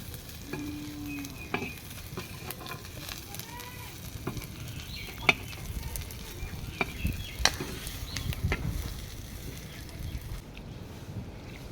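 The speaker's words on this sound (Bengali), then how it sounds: "রসুন মরিচ ভেজে নিচ্ছিলাম।" Garlic and chili peppers frying in a pan for chili mash: a soft, steady sizzle with scattered stirring clicks and scrapes throughout, close but fairly quiet, with no voices.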